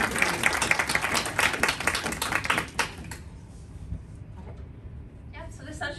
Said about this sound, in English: can I just ask for applause for the panel?